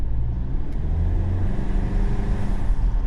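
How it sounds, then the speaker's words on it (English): A 2020 Volkswagen Atlas Cross Sport SE turbocharged engine hums and rumbles steadily nearby with a faint whistling turbo whine above it, no voices present. "we'll see if we can get some turbo noise"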